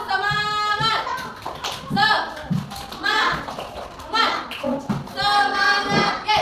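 Primary school children in a class perform a 'tepuk semangat' rhythmic clapping chant, sharp clustered claps in a repeating pattern, interleaved with the children's sung and shouted chant and close, loud bursts.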